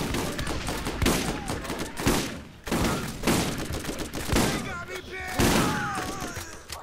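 Gunfire in the video game Borderlands crackles in rapid, overlapping bursts and volleys that keep repeating at a loud level throughout, with occasional speech mixed in.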